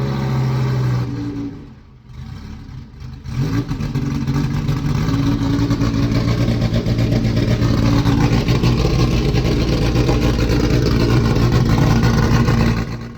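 A V10 car engine cranks briefly, catches and settles into a loud, steady idle that continues evenly, close to the microphone.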